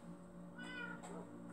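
A cat meows twice in quick succession, close and fairly clear, over a low steady background hum.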